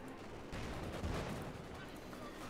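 Artillery fire in Company of Heroes 2, a World War II strategy game, in an OKW versus British match: a dense, rumbling wash of distant booms and shelling rolls on continuously, with a heavier thud about a second in.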